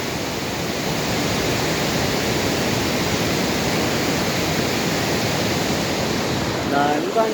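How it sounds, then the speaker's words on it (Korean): A loud, steady roar of monsoon rainwater pouring continuously over the Jamsil weir on the Han River, Seoul, broadband and unbroken, with no voices. "잠실 수중보를 통과하는 장맛비 물소리가 정말 우렁찹니다"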